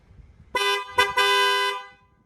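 A Fiamm AM80SX horn fitted to a Ford Ranger blares in three close, loud blasts: a short first honk, a brief stab, then a longer sustained tone that fades out.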